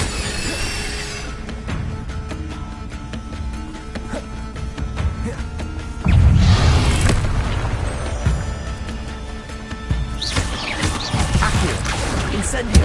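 In the video game Hogwarts Legacy, an Incendio fire spell goes off amid combat, a heavy whooshing burst of flame with booming impacts and clattering effects, while a voice calls out spell names.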